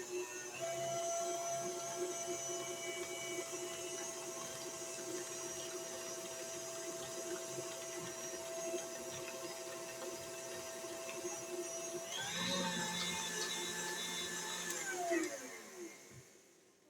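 An electric mixer whirs steadily through cookie dough with an egg just added, a constant motor hum that shifts pitch near the end as the load changes.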